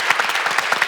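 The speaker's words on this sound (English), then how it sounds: "Give Sam a big round of applause" A conference audience breaks into applause, a brief burst of crisp overlapping hand claps, close and fairly loud.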